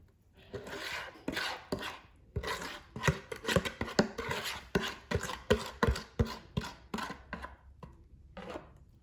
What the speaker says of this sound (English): now we're gonna put all of our batter into the pan